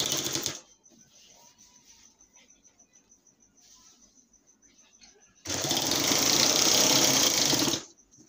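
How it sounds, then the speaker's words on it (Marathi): A sewing machine stitches the border of a quilt made from old saris in two bursts, a short rapid run at the start and a longer loud one near the end, with someone talking quietly between them. "फोल्ड करून पहिली आपण जिथं टीप मारलेली आहे त्याच जागेवरती टीप मारायची आहे."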